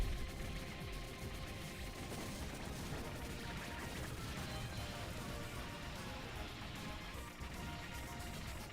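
Dense, continuous gunfire and explosions pour out of the arcade shooter Dimahoo, a constant barrage of rapid shots and blasts with no pauses.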